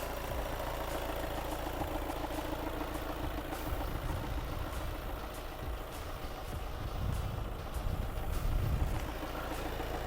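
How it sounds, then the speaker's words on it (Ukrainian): Close up, the 2.0 TDI diesel of a 2018 Volkswagen Tiguan Allspace R-Line idles smoothly and quietly with a constant low hum and light ticking. The sound swells slightly near the end, and no voices are heard. "Працює гарно, тихенько, його не ковбасить."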